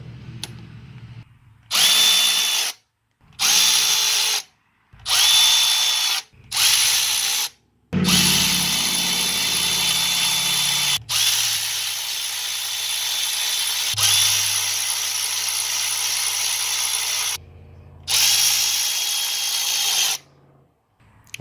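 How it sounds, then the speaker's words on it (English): A cordless power ratchet runs bolts back into an engine during a valve and timing belt check, buzzing in several short bursts and then in longer whirring stretches broken by brief pauses, loud and close. "I can now use the gun to run them all back in."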